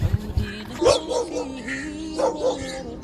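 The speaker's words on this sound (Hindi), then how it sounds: "इस कुत्ते का गला खराब है" A dog with a sore throat and a cold barks hoarsely outdoors, giving several rough, raspy barks and yips close by, with faint background noise.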